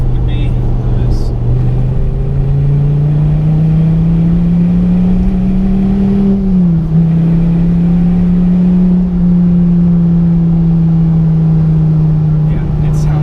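A Dodge Viper's engine idles loud and steady close by, its rumble swelling briefly around the middle and settling back into a constant drone with no pauses.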